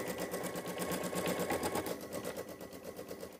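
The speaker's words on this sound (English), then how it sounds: "I'm just going to slide this hoop into the machine and stitch the placement line of where to place my white leather" Embroidery machine stitching a placement line in a hoop for white leather appliqué on a quilt block, a continuous rapid rhythmic needle hammering at close range, steady throughout.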